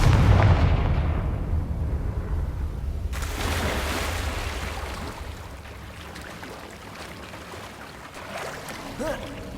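A Confringo fire spell explodes in Hogwarts Legacy on PS5: a loud, deep boom bursts at once, then rolls off into a long, fading rumble over low background noise.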